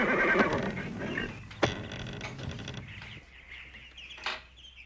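A horse whinnies amid a busy, noisy background, followed by a brief sharp sound and a quieter stretch with faint chirps near the end.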